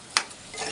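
Turmeric, chilli powder and salt are stirred into a frying brinjal and potato curry, with one quick scrape of the spoon against the pan over a soft, steady sizzle.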